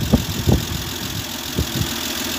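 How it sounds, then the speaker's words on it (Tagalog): A Nissan Civilian bus with a swapped-in six-cylinder engine runs steadily at idle, a loud, continuous low rumble with a few heavier thumps near the start. "Bali yung makina ng isang civilian nilipat natin dito."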